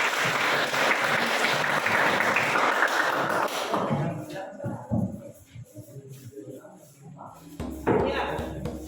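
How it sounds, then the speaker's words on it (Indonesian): A classroom group receives applause: a dense burst of clapping fills the first few seconds, then fades into scattered thuds and a murmuring voice. "kita beri tepuk tangan dulu untuk kelompok"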